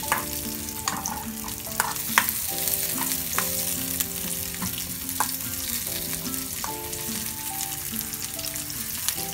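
Small onions (shallots) fry in a pan with a steady, close sizzle, broken by occasional light clicks of stirring.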